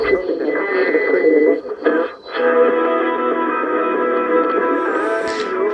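Radio navigation beacon sends its call sign in an unusually low tone, picked up on a shortwave receiver with a T2FD antenna near 1 MHz in a winter forest; a steady droning tone with brief dips sits over receiver hiss, with no speech.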